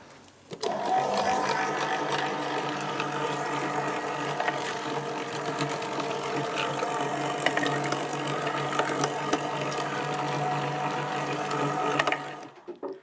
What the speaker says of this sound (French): on va passer à la machine pour pouvoir hacher notre poisson